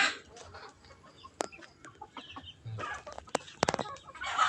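Chickens cluck in short bursts with a few sharper calls, close by, over a quiet outdoor background.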